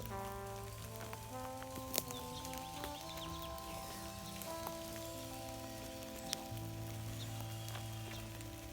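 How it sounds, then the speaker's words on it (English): Spring rain falls steadily outdoors during a walk through an urban garden, a continuous soft patter with a few louder drip hits, steady and unbroken with no talking. "it's just a glorious, cleansing spring rain"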